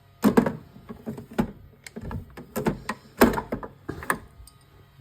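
The water tank of a Melitta Solo espresso machine is handled and pushed back into place, a series of close plastic knocks, taps and clicks in irregular rhythm.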